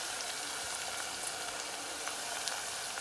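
Onions frying with curry leaves and fennel in hot oil for chicken fried rice, a steady dense sizzle that holds even and unbroken, close and moderately loud, with no talk.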